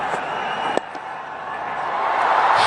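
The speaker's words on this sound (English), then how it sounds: "Big roar of excitement from the crowd." A cricket stadium crowd roaring with excitement, a broad sustained roar from a large distant crowd that swells toward the end, with a brief sharp knock early on and no clear speech.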